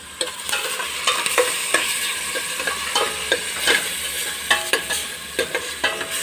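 Pancit canton noodles with sautéed seasoning mix and pepper stirred in a frying pan, rhythmic scraping and clacking strokes repeating over a steady close sizzle.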